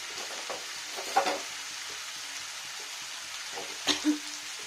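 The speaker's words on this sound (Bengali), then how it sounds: "ভালো করে কষিয়ে নিই সুন্দর করে কষিয়ে নেবেন" Vegetables and tomato frying in a pan alongside boneless chicken, a soft, low sizzle with a few brief knocks and scrapes of a spoon stirring, quiet and close.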